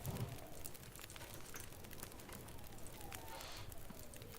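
Reclaimed firewood crackling in a campfire inside the survival game The Long Dark during a storm, a steady close crackle and hiss with scattered sharp pops, heard alone.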